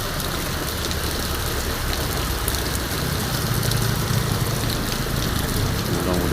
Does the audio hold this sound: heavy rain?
yes